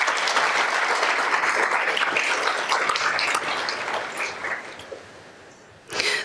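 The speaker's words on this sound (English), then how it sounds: "Let's give them a round of applause." An audience at a nursing college scholarship and alumni awards evening applauds the musicians, dense sustained clapping that gradually thins out, then a brief renewed burst at the end.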